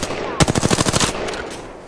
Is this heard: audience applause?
no